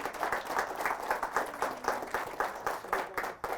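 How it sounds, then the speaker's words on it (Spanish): An audience in a church applauds with dense, rhythmic clapping that swells in even pulses at moderate distance and lasts a few seconds. "Fuerte ese aplauso al Rey de Reyes,"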